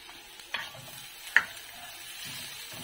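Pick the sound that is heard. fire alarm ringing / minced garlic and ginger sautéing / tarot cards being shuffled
minced garlic and ginger sautéing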